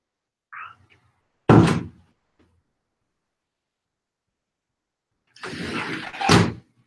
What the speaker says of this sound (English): Close the door to the bathroom though, too.